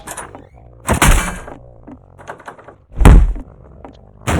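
A door kicked open in the Garry's Mod horror map, with several heavy thunks and bangs, the loudest near the end, close and punchy against a quiet background.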